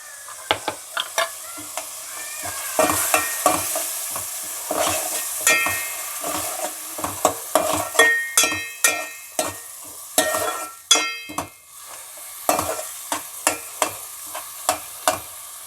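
Onions frying in a pan for an Andhra-style bommidayila fish curry, with repeated sharp scrapes and clinks of a spoon stirring over a constant sizzle, close and busy throughout.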